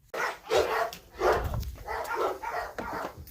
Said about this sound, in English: I didn't even need to knock, the dogs were freaking out